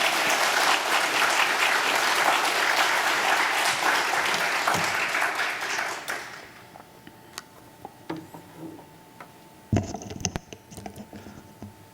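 A church congregation at a Wednesday worship service applauds to welcome a missionary to the front, with steady, full clapping that lasts about six seconds and then fades to scattered claps and small room noises.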